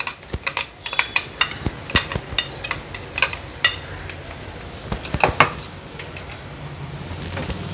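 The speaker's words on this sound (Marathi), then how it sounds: "मसाले तेलावर छान परतून झाले की हे वाटण आहे ते ॲड करणार आहोत।" Ground masala paste and spices sautéing in oil, with frequent sharp clinks of a spoon against the pan over a soft background sizzle, close and steady with no talking.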